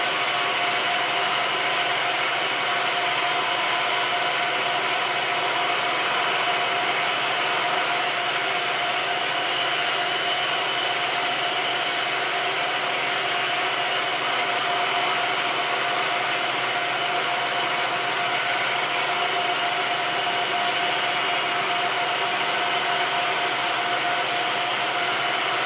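A milling machine on auto feed cuts through aluminum brackets, making back-and-forth passes across the workpiece. It gives a loud, steady, unbroken whirring drone at close range for the whole stretch, with no talking.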